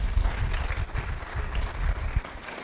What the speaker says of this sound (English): We'll give him a round of applause, please